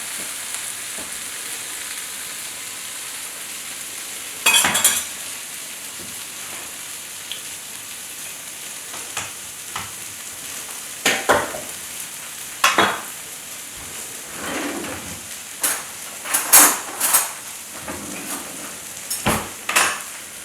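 Potatoes frying in a pan for breakfast tacos, a loud continuous sizzle close by, broken by scattered bursts of stirring scrapes and utensil clatter against the pan.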